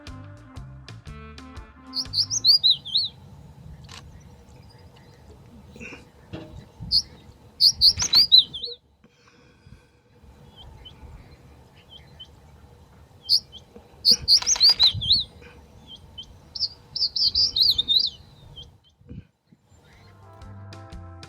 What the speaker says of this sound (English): Lots of crested buntings all around.